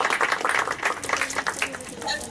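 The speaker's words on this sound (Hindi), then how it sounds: "जोरदार तालियां बजाएंगे" Audience clapping at a Bible school graduation ceremony, a short burst of fairly close, uneven hand claps lasting a couple of seconds, with voices audible underneath.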